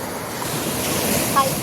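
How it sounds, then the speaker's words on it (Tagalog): Steady surf rushes and washes continuously on Al Shati beach, loud and broad, with wind noise over the microphone. "Ang alon."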